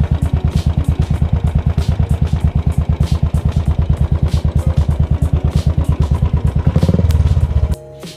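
A modified Royal Enfield Bullet Classic motorcycle idles with its steady, loud thumping single-cylinder beat, close by, a slight rev near the end before the engine cuts off.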